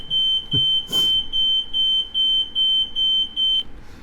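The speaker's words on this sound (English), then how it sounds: "I probably shouldn't have made that fire alarm so loud" A loud smoke alarm used as a short-film sound effect gives a rapid run of about eight piercing, evenly spaced beeps that stop abruptly, with a brief rustling noise partway through.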